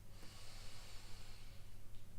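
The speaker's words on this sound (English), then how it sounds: "So you're going to take a big breath in." A deep, slow breath drawn in through the nose before yoga chanting, a soft airy hiss lasting a couple of seconds, close and alone.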